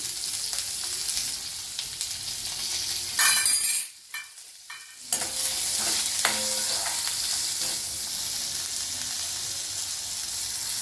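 Mustard seeds and curry leaves crackle and sizzle loudly in hot oil during tempering, a dense continuous hiss that cuts out briefly for about a second before resuming with sharp pops, with no one speaking.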